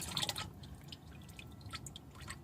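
Motor oil drains from a car's oil pan during an oil change, a faint run of irregular drips and light splashes, a little busier at the start, with no talking.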